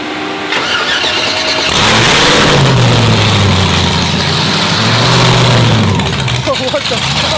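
A supercharged, dry-sump car engine cranks and catches, then roars loudly as it revs up and settles, the deep rumble close and dominant.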